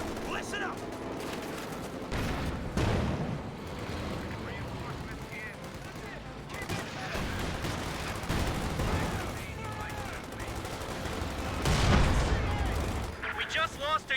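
Panzer IV tank gunfire in Company of Heroes 2: heavy cannon reports and battlefield shots punch through a steady din of combat, with a loud blast near the end and a commentator speaking throughout.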